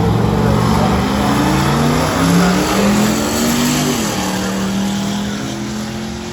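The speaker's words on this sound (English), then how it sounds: "Mustang through the track at 1190" A Ford Mustang races down a drag strip, its loud engine climbing through rising revs and gear changes as it passes close and then pulls away.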